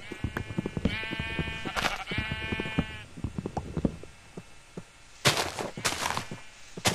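Blocky sheep in Minecraft bleat several times in quick succession, a close, wavering cry repeated against game sounds, followed later by a couple of sharp bursts.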